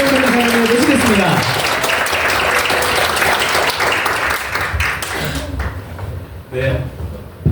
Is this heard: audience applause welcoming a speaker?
yes